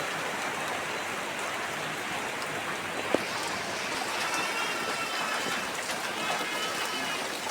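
Steady rain falls outdoors during wood-fire cooking in the monsoon season, a soft continuous hiss of drops with one brief tap near the middle, fairly faint and without talk.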